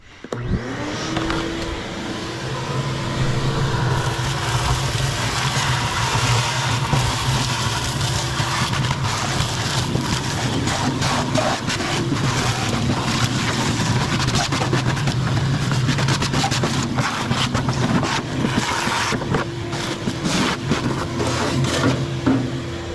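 A steady, loud vacuum motor drones continuously with a scraping, rattling roar as debris is sucked out of a Pit Boss pellet smoker, holding level throughout.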